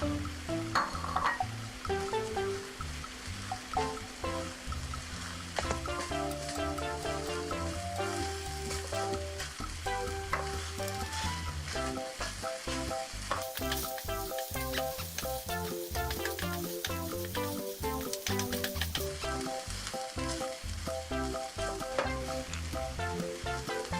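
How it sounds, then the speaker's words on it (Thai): Sour fermented pork and sliced lemongrass stir-fried in a pan give a loud, steady sizzle throughout, with scraping and stirring noises close up and no talking. "ผัดจนตะไคร้กับแหนมเนี่ยส่งกลิ่นหอมเลยนะคะ"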